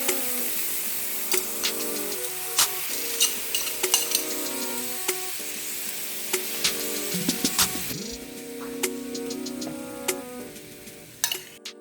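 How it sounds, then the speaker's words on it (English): Vegetables being sautéed in a pan give a steady sizzle, with repeated clinks and scrapes of a utensil stirring against the pan throughout. "Meanwhile, as I am sauteing the vegetables, I am cooking my pasta."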